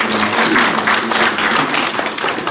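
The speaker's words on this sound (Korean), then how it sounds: "박수 한번 부탁드립니다" An audience at a Catholic marriage-preparation course applauds in a sustained, full burst of many hands clapping, fairly loud and close, with faint voices under it.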